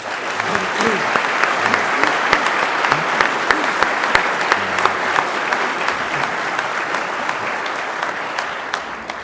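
Sustained audience applause at a SABR baseball convention panel as Bob Watson is welcomed, dense steady clapping for the whole stretch with a few sharper claps standing out and no voices over it.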